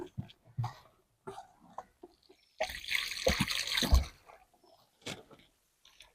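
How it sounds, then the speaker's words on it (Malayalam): Water is poured onto a newly planted Red Lady papaya seedling in red soil. It gives a steady splashing gush for about a second, set between quiet stretches with faint handling noises. "നമുക്ക് നന്നായിട്ട് തന്നെ നനച്ചു കൊടുക്കാം"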